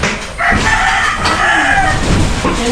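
A rooster crows loudly and close by in one long drawn-out call with a wavering rise and fall, and softer clucking follows near the end, with no voices.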